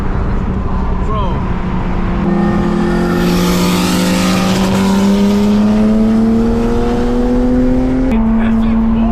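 A big-turbo V8 Lexus accelerates hard with a loud, rising engine note and audible turbo spool. A brief shift near the end cuts the climb, and the sound stays close and loud throughout.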